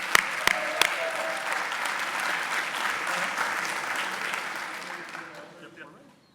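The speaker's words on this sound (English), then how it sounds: "Let's give her a round of applause" Audience applause at a senior career education awards ceremony, steady clapping from a crowd with a few sharp nearby claps at the start, fading out toward the end.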